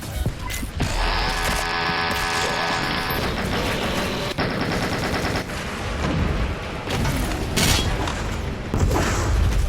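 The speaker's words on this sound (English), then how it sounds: "I was using the original gun sound pack, so all of my guns sounded like this" Rapid gunfire from the original gun sound pack in the video game Doom Eternal: loud, dense bursts of automatic fire and heavy booms, layered with mechanical weapon clatter, with no one speaking.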